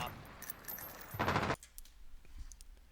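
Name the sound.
gunshot in a video game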